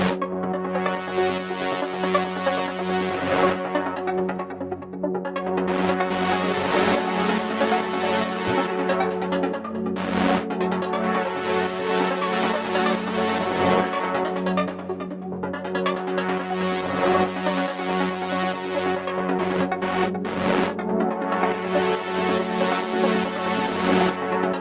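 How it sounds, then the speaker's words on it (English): Arpeggiated synth line with an LFO modulating its pitch through a delay, so the repeating notes sweep in slow swells and drift out of tune; loud, steady and sustained, with no talking. "I also do something here with the arpeggiated line where I'm using an LFO on the pitch with the delay so that it sort of goes out of tune over time"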